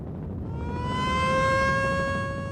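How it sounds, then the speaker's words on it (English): Evacuation sirens wail over Letellier, Manitoba, during the 1997 Red River flood, a rising, sustained tone heard at a distance that swells and then holds. "the sirens wailed in Letellier this morning, signaling the start of the evacuation"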